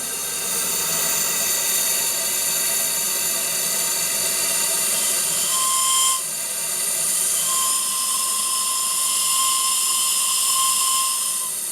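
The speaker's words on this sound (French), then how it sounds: "le corps du sifflet étant long, le son est légèrement plus grave que sur les autres bateaux" A steady, fairly low whistle tone from a steam whistle with a long body on a steam-powered model tugboat sounds twice, starting partway through, over a constant loud mechanical whine and hiss.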